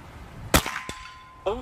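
A Kral Puncher Mortal X air rifle fires one sharp, loud crack near the mic, with a fainter knock just after and a short voiced sound at the end.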